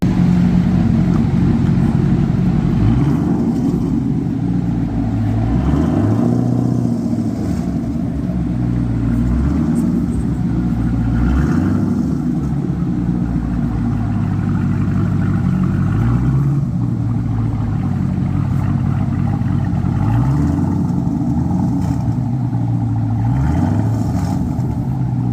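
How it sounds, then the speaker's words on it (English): Several noisy car engines run loud and close throughout, with repeated revving swells rising and falling every few seconds over a steady rumble. "Got some noisy vehicles."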